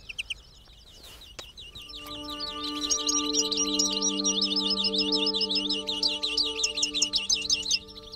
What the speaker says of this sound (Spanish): Los reclamos están ofreciendo todo un espectáculo con sus cantos.